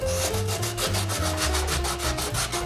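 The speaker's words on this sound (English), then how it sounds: "take some sandpaper and sand it smooth." Sandpaper rubbed along the edge of a wooden paper towel rack in quick, rhythmic back-and-forth strokes, close and steady throughout, with no talking.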